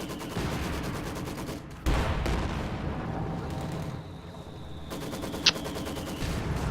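Mortar and gunfire from a Company of Heroes 2 match, a steady dense rumble of explosions and shots that keeps on through the whole stretch, with a few sharper blasts standing out.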